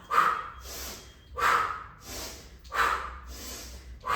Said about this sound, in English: I'm making a little noise with the exhale by making a round shape with my mouth, chimney breath, and really blowing that exhale out